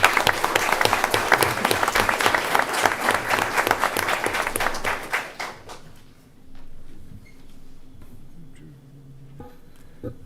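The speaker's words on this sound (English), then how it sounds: "we'll give them a round of applause anyway" Audience applause at a school board meeting, a dense burst of clapping for about five seconds that thins into scattered claps and fades into quiet room noise.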